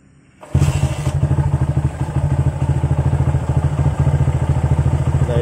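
A Honda GL Max motorcycle, its charging system converted to full-wave, starts with a sudden burst after a quiet moment, then settles into a loud, close, even idle of rapid thudding engine pulses.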